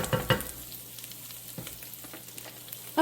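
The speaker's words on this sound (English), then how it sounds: "sausage, starting to brown up a little bit" Sausage pieces browning in a pan for an old church cookbook recipe, a soft steady sizzle with a few louder crackles and stirring clinks, heard close up and quiet.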